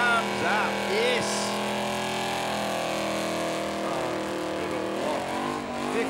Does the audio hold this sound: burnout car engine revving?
yes